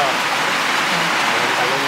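Steady hiss of heavy afternoon rain in Davao, with water dripping through a leak indoors, a dense continuous wash of close rain noise with faint voices underneath.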